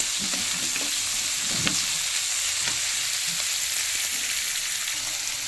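Carrot, chili, cashews and peanuts frying in hot oil in a pan, a continuous close sizzle with a few soft scrapes and stirs of the spoon, no voices.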